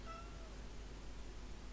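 A cat meowing indoors, a short high mew at the start over a constant low background hum.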